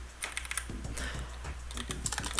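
Rapid computer keyboard typing during a game development session, with irregular bursts of key clicks over a steady low hum, close and moderately loud, no speech.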